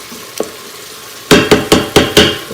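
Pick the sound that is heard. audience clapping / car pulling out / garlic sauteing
garlic sauteing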